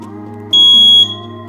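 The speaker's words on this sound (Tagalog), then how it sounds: "Nag-iingay na ang fire alarm panel board" A fire alarm panel board at night gives off a single loud, steady electronic beep for about half a second, set over a constant low hum of background machinery.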